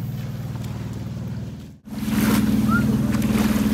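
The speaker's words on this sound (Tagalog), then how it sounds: "Ayan po yung bangka namin na sasakyan." Low, throbbing motor hum of an island-hopping boat's engine close by in the Philippines, steady throughout, with wind and water noise; it dips briefly and then grows louder.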